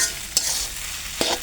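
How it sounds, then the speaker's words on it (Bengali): Noodles cooking in a pan, a soft steady sizzle with two brief scraping stirs, close and moderately loud, no voices. "নুডলস এখানে রান্না হচ্ছে আর আমি এখানে ভিডিও করতেছি"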